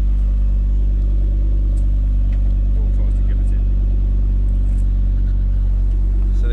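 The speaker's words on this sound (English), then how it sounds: "You can hear the turbos now more." Ford Focus ST225 engine with turbo after a decat install, a steady loud low rumble holding near idle throughout, with faint hiss and clicks above and no distinct revs.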